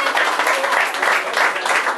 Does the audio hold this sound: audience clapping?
yes